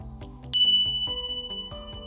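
A bright bell rings out clearly and sustains, with soft repeated low tones continuing beneath it.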